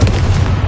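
A deep, booming blast from a Confringo spell in Hogwarts Legacy rolls out heavily and fills the brief moment, close and loud.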